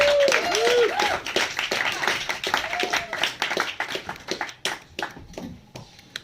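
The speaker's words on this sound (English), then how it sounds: "That is not a proportionate applause." Audience applause at a comedy roast: a dense patter of many hands clapping, with a few whistles near the start, gradually thinning and fading toward the end.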